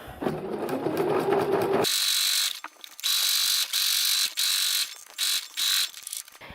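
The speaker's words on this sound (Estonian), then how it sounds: "Hakkame siis õmblema ja üks pikk sirge joon." A sewing machine stitches one long straight seam on a fabric embroidery hoop cover, running in loud mechanical bursts of a second or so separated by brief pauses.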